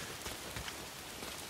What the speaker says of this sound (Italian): Maledetta pioggia. O piovono furiosi, o piove acqua. Possibile che diluvi sempre.